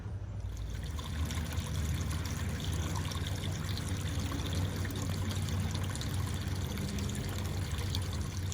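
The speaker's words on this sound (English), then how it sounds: "Wish I had a louder waterfall." A garden pond waterfall trickles in a steady, continuous splash, fairly quiet and unbroken, with a low rumble of traffic and construction underneath.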